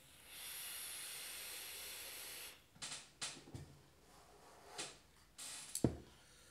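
A vape device firing on caramel popcorn e-liquid at 56 watts, a long steady hiss of vapour followed by several short sharp puffs and clicks, quiet and close.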